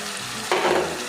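Soy chunks frying in a pan with a soaked paste of chili powder, cumin and coriander, a steady hiss that swells louder about halfway through as the wet paste hits the hot oil.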